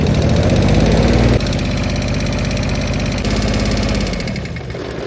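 Kubota BX2360 compact tractor with an overheating engine, running in a steady loud idle with a knocking, vibrating diesel chug, close and uninterrupted.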